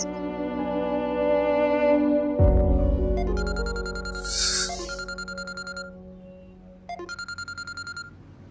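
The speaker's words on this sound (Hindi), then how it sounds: "ये बार बार फोन करने का क्या मतलब है हुमा?" A phone rings repeatedly in a Pakistani TV drama scene, with electronic ringtone bursts in short repeating patterns over a steady musical background.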